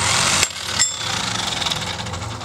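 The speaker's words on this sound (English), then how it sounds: "This is where we're going to need to use our impact wrench." A pneumatic impact wrench hammers loose the small nut on a GY6 Courier scooter's CVT variator, a loud rattling burst that cuts off briefly and restarts, followed by a steadier mechanical chatter close by.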